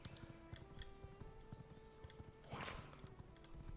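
Horse hooves clip-clopping in the video game V Rising, a steady, fairly quiet trot of quick repeated hoofbeats running through the whole stretch, with a brief louder noisy burst partway along.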